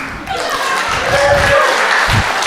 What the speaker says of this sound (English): Keep clapping for me.